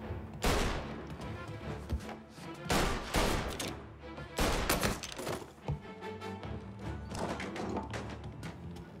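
Rapid bursts of gunfire from a 1930s gangster shootout in Mafia: Definitive Edition, several loud volleys of shots separated by short pauses, with impacts and a low rumble between them.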